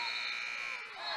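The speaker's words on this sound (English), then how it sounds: "It's good, but the buzzer sounded." A buzzer sounds at the end of a quarter in a high school basketball game, a steady, sustained electronic tone lasting about a second.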